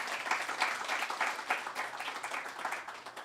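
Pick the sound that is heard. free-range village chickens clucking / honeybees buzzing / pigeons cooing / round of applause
round of applause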